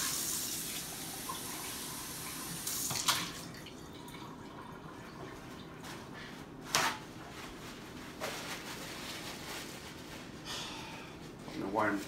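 Tap water runs and splashes softly in a sink while a dirty coffee cup is washed, with a few louder clatters and a voice murmuring faintly over it.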